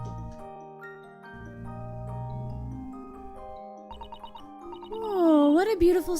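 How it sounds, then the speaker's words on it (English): A large disc music box from The Great Ace Attorney game plays a melody of bright chiming notes over sustained tones, moderately loud and swelling toward the end. "I've never seen a music box this huge before."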